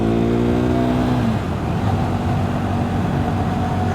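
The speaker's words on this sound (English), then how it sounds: "It does love a good twist of the throttle," A KTM 390 Duke motorcycle engine revs hard on a twist of the throttle while riding local roads, its tone climbing then dropping off as the throttle closes before a steady drone resumes, loud and close.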